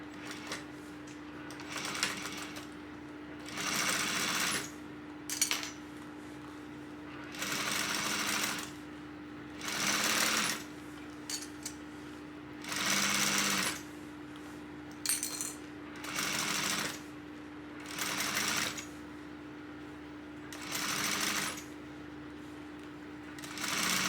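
A sewing machine top stitching around a tote bag at a 1/8-inch seam allowance, running in repeated bursts of steady whirring stitching separated by short pauses, close and clear over a constant low hum.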